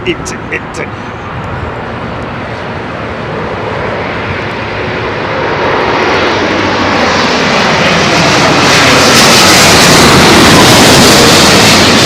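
A heavy airliner lands on runway 27L at London Heathrow in a southwesterly crosswind: a loud, close engine roar that builds steadily and broadens over about twelve seconds, with wind buffeting underneath.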